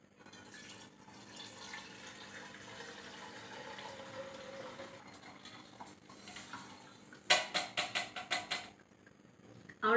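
Palm oil from a ration shop pours slowly through a filter strainer in a steady, soft liquid stream, followed near the end by a run of sharp clinking taps.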